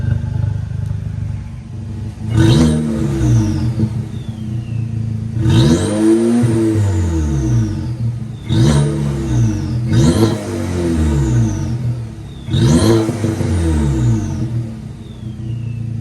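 Volkswagen Passat 1.8T with a CTS Turbo 3-inch downpipe with cat, revving repeatedly in five sharp bursts, each climbing and falling back to a steady idle, close and loud.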